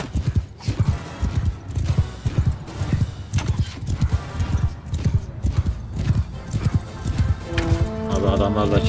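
Horses galloping in Mount & Blade Bannerlord: rapid rhythmic hoof clip-clop thuds repeating steadily and close, with a whinny near the end and people talking over the hoofbeats.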